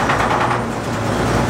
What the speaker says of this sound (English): Make sure it's in neutral, hit the starter button.